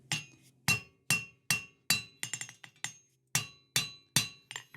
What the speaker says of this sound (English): I'm actually just hitting over the boss, pushing it down so that we get some material coming through